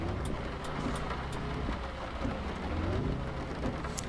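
Rain falling in the truck-driving game Grand Truck Simulator 2, a steady dense hiss of raindrops with a low vehicle rumble underneath and faint scattered ticks, continuous and fairly quiet, with no talk.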